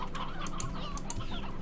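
Chickens clucking in the video game Slime Rancher, a few short clucks and squawks against a quiet game background.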